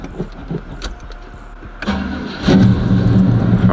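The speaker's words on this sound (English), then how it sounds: "let's get ready to pull the car out real quick and get y'all a quick little cold start" A car riding on 26-inch rims cold-starts up close: a starter cranks briefly after some clicks and rustling, then the engine catches and settles into a loud, steady idle.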